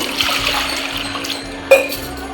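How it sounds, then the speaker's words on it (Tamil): A pot of water is poured into a pressure cooker while cooking mutton soup at home, giving a steady rushing, splashing pour that runs throughout, with a brief metallic clank near the end. "அதுக்கப்புறம் ஒரு சொம்பு தண்ணி"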